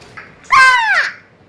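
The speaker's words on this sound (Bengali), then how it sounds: "এটা কে কাক ডাকছে এরকম করে?" A crow gives a single loud, harsh caw up close, a short rasping call standing alone against a quiet background.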